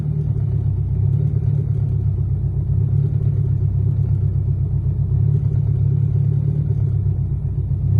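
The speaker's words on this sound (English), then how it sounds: "This is a cold start." A car engine just after a cold start, idling rough, makes a steady low rumble that runs unbroken and fairly loud. No voices are heard.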